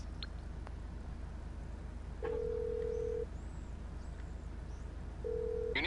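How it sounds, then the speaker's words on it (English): A phone in GTA Online dials the mechanic, giving two steady ringback tones about a second long each, separated by a pause, over a constant low hum and faint background game noise. "Once it's delivered, call your mechanic from your phone"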